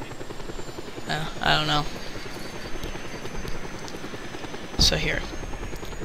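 A helicopter flies in Just Cause 2 with a constant rotor drone throughout. Someone talks briefly over it.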